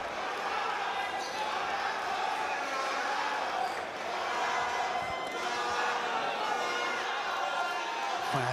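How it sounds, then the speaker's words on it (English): Fans cheering at a GOtv Boxing Night bout in Nigeria, a steady roar of crowd noise filling the arena at a constant level, with a commentator talking over it. "Fans going wide and cheering their man, Rilwan."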